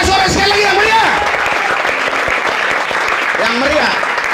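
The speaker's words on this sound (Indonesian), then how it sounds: "Berikan sorak-sorak sekali lagi yang meriah" A church congregation cheers and applauds loudly, with dense clapping throughout and voices shouting over it, close and full.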